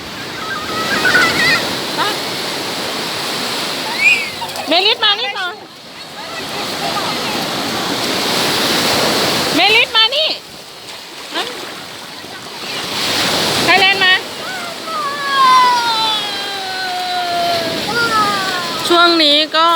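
Sea waves break and wash ashore on a beach at Antalya, Turkey, a loud rolling surf with gusts of wind buffeting the microphone, and people talk over it now and then.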